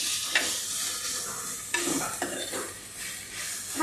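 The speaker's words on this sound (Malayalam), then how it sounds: "നമുക്കിത് നന്നായിട്ട് വഴറ്റി കൊടുക്കാം" Salted onions sauté in a pan for a traditional crab gravy: a soft continuous sizzle broken by several scraping stirs of a spoon against the pan, close by.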